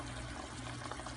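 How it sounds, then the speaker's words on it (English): Jamaican jerk barbecue sauce poured into a cooking pot, a steady soft liquid pour lasting the whole moment, close and fairly quiet with a low background hum. "I'm just gonna add about a tablespoon of this to my pot."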